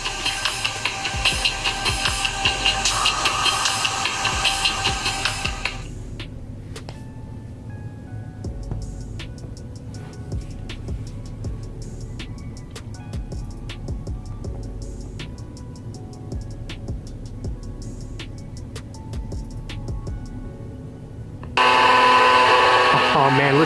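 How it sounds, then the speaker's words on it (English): Revving video game engines played through a Samsung Galaxy S20 phone speaker whine in rising and falling pitches, a steady mechanical drone with sharp ticking bursts, loud at the start and end. "listen to the engines just revving"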